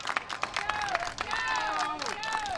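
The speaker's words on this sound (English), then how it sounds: "The crowd is cheering them on." A crowd cheers and claps at a pickleball match point in the Bristol Open, a short burst of applause and excited voices near the court, with some speech mixed in.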